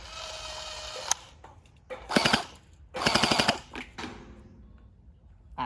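Bursts of rapid mechanical clicking from an electric gel blaster fire in short full-auto strings, separated by pauses, close and fairly loud with a whirring motor rattle.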